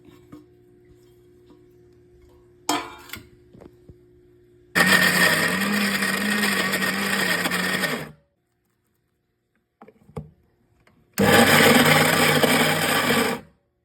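A mixer grinder grinds chicken with curry leaves, coriander, ginger paste, green chillies and garam masala in its jar, running in two loud, steady whirring bursts of about three seconds each, with short clatters and a quiet gap between them.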